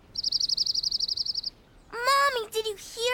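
A cartoon bird chirps in a quick run of about a dozen even, high trilling notes lasting over a second, then a voice speaks loudly afterward.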